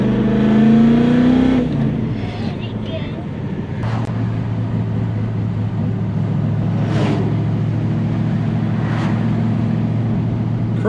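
A Holden VN SS car drives on the road, a loud engine revving down then a steady low cruising drone with road noise, heard from inside, while people talk over it.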